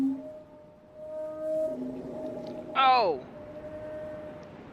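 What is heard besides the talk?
big fish creature call in Riven video game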